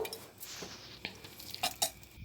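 A spoon stirs fried tempering into cooked moong dal with green mango in a metal pot, giving a few scraping clinks and soft knocks against the pot, close and fairly quiet, with no talk.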